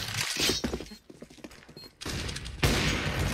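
Gunfire in a shooting video game, bursts of sharp close shots with a brief lull, then a fresh sustained volley, loud and alone without talk.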